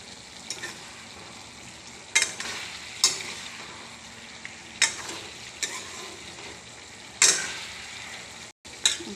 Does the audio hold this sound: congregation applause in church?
no